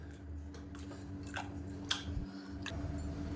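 Cooked chana dal being mashed in a pot for payasam, heard as soft squelching presses and a few light scrapes. The sounds are faint and close over a low background hum.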